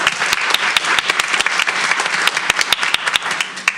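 An audience at a board meeting applauds for an introduced staff member, a steady dense wash of many hands clapping with a few sharper nearby claps standing out, continuous and fairly loud throughout.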